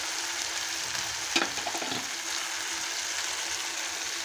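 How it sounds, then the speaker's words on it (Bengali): Spice masala with garlic and turmeric frying in a pan for an egg curry, a steady broadband sizzle with one brief louder stir or scrape near the middle. "মশলাটা ভালো করে কষিয়ে নেব"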